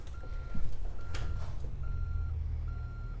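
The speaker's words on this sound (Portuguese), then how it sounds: "Nossa, que difícil pra dar ré esse caminhão, cara" A truck reverses in American Truck Simulator, its reversing alarm sounding four evenly spaced beeps over a low, rumbling engine, with no speech.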